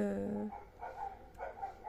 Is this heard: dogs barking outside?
yes